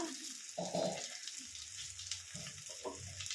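Water pours into a cooking pan of chopped green chillies, tomato, garlic paste and ginger paste, a short soft splash and trickle, fairly faint.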